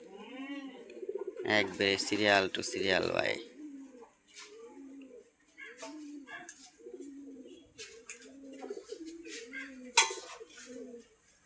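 Domestic pigeons perched in a row at a home coop coo softly and repeatedly in low rhythmic bursts, while someone talks over them nearby and chickens and ducks are kept close by.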